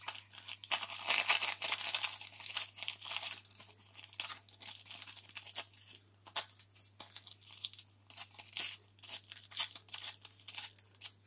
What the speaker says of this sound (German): ausreißen mit den Fingern, was ich dafür brauchen könnte